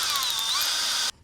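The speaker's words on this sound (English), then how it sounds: "Now we'll just drill out those nozzles." A power drill boring out nozzles, a loud high whine that shifts slightly in pitch for about a second and then stops abruptly.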